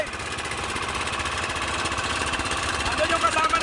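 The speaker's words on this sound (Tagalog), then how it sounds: "Yung isang makina." A boat engine runs with a steady rapid throbbing pulse that grows slightly louder toward the end, with a voice talking over it.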